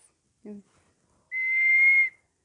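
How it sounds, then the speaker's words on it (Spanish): A short low hollow tone followed by a sustained, clear high whistle lasting under a second from a ceramic whistling vessel, in silence. "sacar, pues las, piezas, las vasijas silbadoras"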